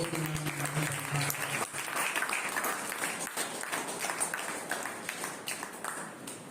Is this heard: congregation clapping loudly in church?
yes